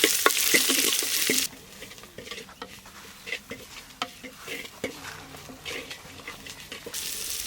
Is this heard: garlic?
yes